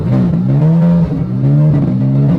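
Lamborghini SVJ engine revving roughly, its uneven idle note rising and dipping in loud, continuous surges close by with no other sounds over it.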